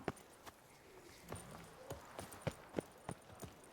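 Horse hooves clip-clopping in The Witcher 3 video game, a steady walking rhythm of distinct hoof strikes, fairly quiet and close, with faint background ambience.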